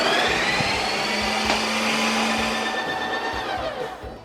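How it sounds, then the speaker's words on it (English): Ninja Creami machine spinning a peach mango milkshake, a loud steady motor whine with high grinding blade tones, gradually quieting toward the end, with no talk. "Put this thing in the machine, turn it on, and this time I'm going to hit milkshake."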